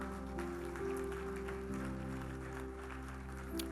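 Conference audience applauding, a continuous patter of clapping over a steady hum of room tone, moderately loud and without speech.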